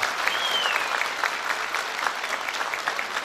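A hall full of guests at a Kastamonu association evening keeps up sustained applause for an honoured director, a thick, even wash of many hands clapping, close and continuous.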